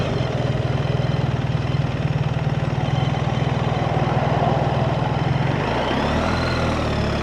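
A 2025 BMW R 1300 GS Adventure sits stopped with its boxer engine idling in a steady, close, even low throb, then briefly revs and settles toward the end.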